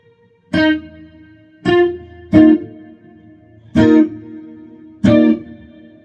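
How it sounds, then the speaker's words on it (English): Five plucked guitar notes ring out one at a time through a rack reverb effect, each trailing into a roomy medium-to-long hall reverb tail that lingers before the next note. "And then I have a little bit of reverb."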